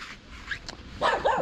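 A dog gives a few short barks and yips close by, with a brief whine between them, the calls growing louder toward the end, outdoors near houses in Makeevka, Donbass.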